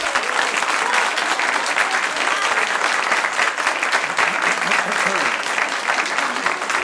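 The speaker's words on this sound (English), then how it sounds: "save the applause till the end" Sustained applause from a large crowd, dense and continuous clapping throughout, with a voice faintly underneath.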